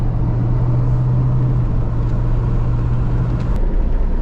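A supercharged Range Rover P38 driving along, its engine giving a steady low drone with a sustained hum under broadband road rumble, continuous and fairly loud throughout, with no voices.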